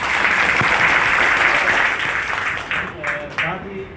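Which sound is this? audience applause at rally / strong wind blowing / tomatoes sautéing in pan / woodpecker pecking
audience applause at rally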